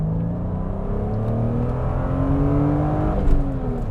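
A 2000 BMW M Coupe pulls hard after a downshift, its engine note climbing steadily and loud and close for several seconds, with a slight gear-change shift near the end.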